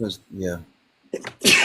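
A single sharp sneeze bursts out near the end, right after a few words of casual talk.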